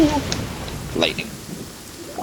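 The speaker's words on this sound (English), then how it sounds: "Ooh, lightning." Rain patters faintly in a Genshin Impact game scene while a brief crackle of thunder rolls in the background; a voice speaks over it.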